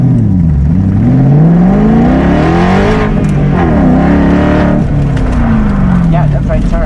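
A Cobra Daytona replica car on an autocross run, its engine loud and close, rising and falling in pitch as it accelerates, brakes and turns, with a voice or two talking over it.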